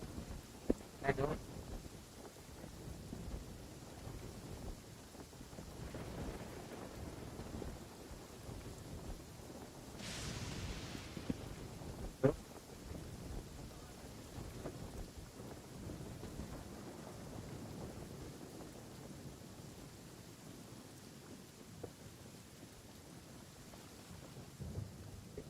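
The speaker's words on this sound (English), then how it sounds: "Please stay indoors until the storm passes." Thunderstorm with rain in the video game Genshin Impact: a steady rain wash runs throughout, with a bright crack of thunder near the middle and a few sharper rumbles, while a voice talks over it at times.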